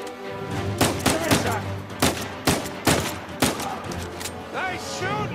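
Gunfire in the video game Uncharted 4 rings out as a series of sharp, separated shots, mixed with character voices and in-game action sounds.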